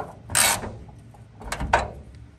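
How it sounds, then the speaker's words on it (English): A 10 mm socket wrench snugs down the ball stud of a hood strut on a 1st-gen Toyota 4Runner, giving two short bursts of ratcheting clicks close by with a brief pause between them. "10 millimeter socket, to snug the ball stud down."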